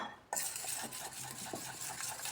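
Spoon stirring cauliflower batter with spices and water in a bowl: a wet, continuous mixing and scraping sound that starts abruptly and carries on close-up, with no talking.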